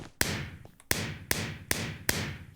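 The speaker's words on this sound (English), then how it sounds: "Fireworks going off in a circle!" Fireworks go off one after another in the Minecraft video game, five sharp booming pops at a fairly even pace, each with a quick crackling fade, and no talking.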